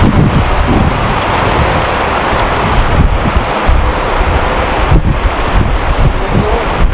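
River water running across a mountain road in Spiti Valley rushes in a loud, continuous roar close by, broad and unbroken, with wind buffeting the microphone and no voices.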